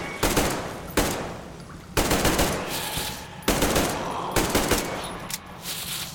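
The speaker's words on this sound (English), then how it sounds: "Let's use the Kalashnikov a bit." Kalashnikov rifle fire in the Metro Exodus video game, repeated loud automatic bursts of a second or so each, separated by short gaps, close and dominant.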